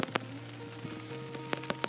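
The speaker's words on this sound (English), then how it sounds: "You can maybe hear that it's raining." Rain falling on a tent pitched beside a car at night in Glen Affric, Scotland, a faint steady patter broken by a few sharper drops hitting the fabric nearby.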